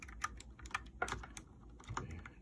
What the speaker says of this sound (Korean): 키보드를 살살 두드리면